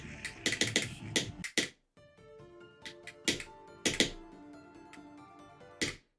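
Crisp mouse or keyboard clicks from a player in the rhythm game Deimos, tapping in quick bursts and short patterns with brief pauses, close and dry, with no talking.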